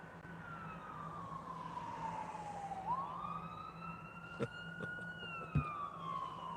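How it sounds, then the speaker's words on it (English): An ambulance siren wailing in a slow falling and rising sweep, moderately distant, heard from a car driving through Pigeon Forge and Gatlinburg, with a couple of sharp knocks near the end. "Oh, there's an ambulance."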